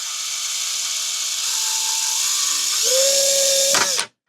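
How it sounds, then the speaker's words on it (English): A power drill whines steadily as it bores through plastic, its pitch shifting partway through before the motor abruptly stops. "Just going to run our drill down."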